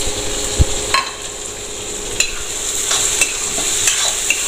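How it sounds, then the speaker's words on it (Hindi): Finely chopped onions frying with garlic in a pan, a steady close sizzle with occasional sharp scrapes and clicks of stirring. "प्याज को भी गोल्डन ब्राउन होने तक भून लेते हैं।"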